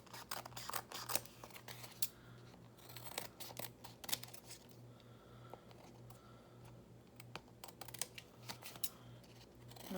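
Scissors snip through paper samples in a steady series of short, crisp cuts over a constant low hum, close and fairly quiet.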